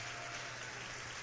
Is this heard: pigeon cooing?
no